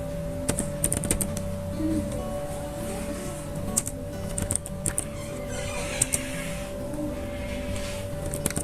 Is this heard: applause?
no